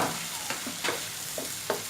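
Carrots stir-fry in a pan with garlic and ginger, giving a soft, steady sizzle broken by several scraping stirs, close and fairly quiet.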